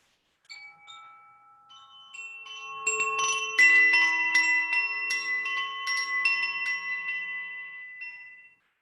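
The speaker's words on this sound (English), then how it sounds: "I'm going to sound a bell for us to come out of meditation" Several meditation bells are struck one after another, their bright, shimmering tones overlapping and ringing out before fading away in a quiet room with no talking.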